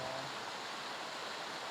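Stream water flowing near Riverston, a steady, soft rushing wash with no breaks, faint and close.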